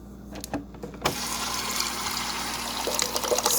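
Water pours into the measured-fill dispenser of a Whirlpool French-door refrigerator, starting abruptly after a quiet moment and running as a steady, close stream with small splashy fluctuations.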